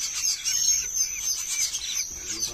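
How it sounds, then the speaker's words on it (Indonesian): Hill myna chicks call with repeated high, thin chirps and squeaks, fairly close, in a continuous chattering stream. "Ini anakan burung siung batu."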